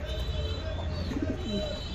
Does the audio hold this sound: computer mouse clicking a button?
no